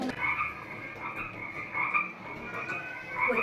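Frogs croak in a steady, continuous outdoor chorus, with repeated rhythmic calls and no talking.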